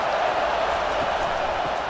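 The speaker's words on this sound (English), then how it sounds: "this crowd is tearing the lid off this place" A football stadium crowd at Auburn Tigers versus Texas A&M Aggies roars on third down, a dense, continuous wall of cheering noise, fairly loud, with a broadcaster's voice faintly under it.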